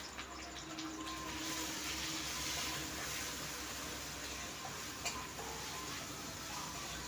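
Potatoes with turmeric sautéing in a pan, a broad steady hiss of frying with faint stirring, fairly quiet and unbroken, one small knock near the end, no talking.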